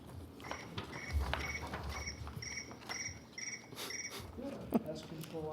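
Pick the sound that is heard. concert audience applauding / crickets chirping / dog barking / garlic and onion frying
crickets chirping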